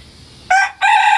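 A rooster crows nearby, a loud clipped call in two bursts separated by a short gap, heard alone.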